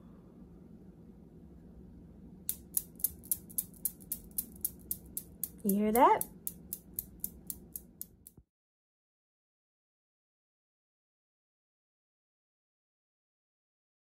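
Marbles strung on yarn from craft sticks collide in a physics demonstration, making a long run of sharp, evenly spaced clicks at a steady rhythm. A brief spoken question cuts in midway, then the ticking carries on and stops abruptly.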